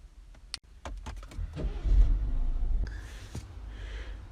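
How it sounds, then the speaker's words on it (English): A BMW F20 1 Series hatchback starts up after a series of sharp clicks and brief whirs, its engine catching and settling into a steady idle, heard close with no talking. "So let's start the car up."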